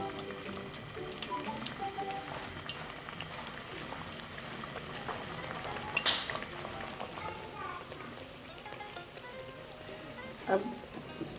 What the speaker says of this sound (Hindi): घी गर्म होने पर अब इसमें जो पापड़ियाँ बनाई थी गोल वो इसमें डालते जाएं।